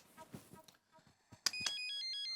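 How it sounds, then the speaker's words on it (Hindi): A telephone rings late at night in an apartment with a bright electronic ringtone, repeating tones that start abruptly after soft rustling and murmured voices, continuing loud and close. "अहो, सच में बज रहा है, सपने में नहीं बज रहा है।"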